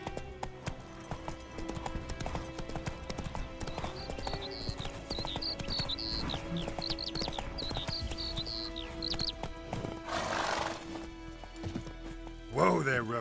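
Roach the horse galloping in The Witcher 3, rhythmic hoofbeats clip-clopping steadily under game music and ambience, with a brief whoosh and a short voice near the end.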